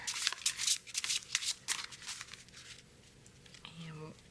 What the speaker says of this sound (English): We're going to do a little shuffle here.